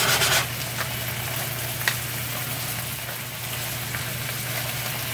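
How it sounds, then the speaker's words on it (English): Dungeness crab poured into a hot pan over fairly high heat, a loud, steady broadband sizzle with a brief louder burst at the start and faint stirring scrapes, no talking. "What you want is kind of a little bit high heat so that when you bring it in, when you pour in the crab, it kind of sizzles"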